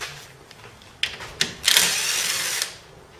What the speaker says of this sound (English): Now I can get these 4 bolts off and the wheel bearing out.